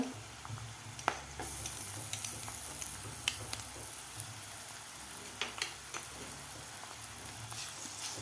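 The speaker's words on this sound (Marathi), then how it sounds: "आलं लसूणची पेस्टसुद्धा एक मिनिटभर आपल्याला कांद्याबरोबर व्यवस्थित परतून घ्यायची आहे" Ginger garlic paste and onions sauté in a pan with curry leaves, giving a continuous close sizzle with scattered sharp pops and clicks of a spoon stirring against the pan.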